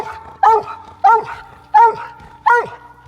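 A hunting dog barks at treed game in the distance, four evenly spaced sharp barks at a steady rhythm, with quiet woodland background between them.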